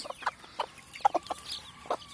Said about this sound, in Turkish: Şimdi anneleri onları çağırıyor.